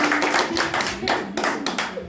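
Guests at a birthday party with a youth mariachi band clap together, a steady patter of hands under faint murmuring voices and a lingering tone in the room.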